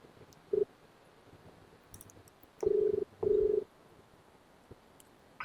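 Three short electronic phone tones sound in a quiet room as an outgoing call rings, one brief beep followed later by two longer rings in quick succession.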